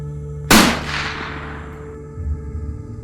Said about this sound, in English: Suddenly, we heard a loud gunshot.